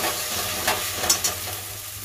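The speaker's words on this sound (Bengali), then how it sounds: "দিয়ে এটাকে ভালো করে ভাজবো, লাল লাল করে ডিমটাকে" Steady sizzling of eggs frying in hot oil, with a few sharp crackles and pops rising above the constant hiss.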